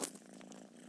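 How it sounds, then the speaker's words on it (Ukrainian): A cat purring up close, a steady low rumbling hum that continues without a break. "Це кіт."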